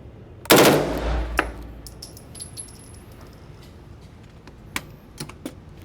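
A fully automatic machine gun fires one loud, short burst close up, then falls mostly quiet apart from a few faint clicks and small knocks.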